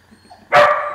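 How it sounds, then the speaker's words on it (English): A dog gives one loud, close bark, following a brief quiet moment with faint background sound. "Oh god, doggies are here!"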